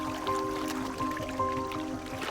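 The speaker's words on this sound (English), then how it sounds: "They use their 2-meter trunks to siphon water, 10 liters at a time, before squirting it into their mouths." An elephant draws water up its trunk and squirts it out, making a close, continuous wet gurgling and dribbling sound with a few splashy surges.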